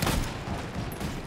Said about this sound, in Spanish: Estoy dándole disparos ahí random.